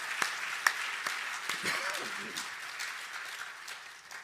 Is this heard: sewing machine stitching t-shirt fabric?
no